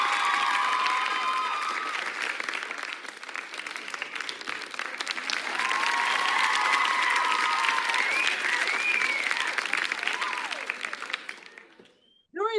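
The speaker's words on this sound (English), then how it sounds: "I want to give all of them a huge round of applause as well" Sustained audience applause at a Toastmasters Speechcraft session, steady and dense for about eleven seconds with some faint voices and cheers mixed in, then tapering off abruptly near the end.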